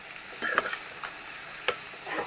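Brinjal curry with leaves is stirred with salt in a pan, giving a few soft, scattered scraping and clinking strokes over a faint, low sizzle.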